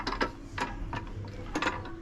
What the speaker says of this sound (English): Apparently if you over tighten these clamps, it can, it's aluminium extrusion, it can bend the extrusion.